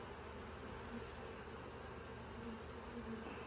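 Honeybees hum steadily around an open hive during an inspection after a colony split, a continuous dense buzz close by with a thin high whine over it and no voices.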